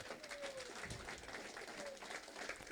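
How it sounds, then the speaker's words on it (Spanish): A congregation applauding for Jesus during a Quechua-language spiritual festival church service in Añancusi, Huancavelica, steady continuous clapping at moderate volume with faint voices mixed in. "Dale palmas a Jesús."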